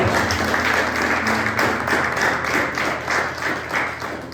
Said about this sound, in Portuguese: Aplauda Jesus se você crê nisso bem forte.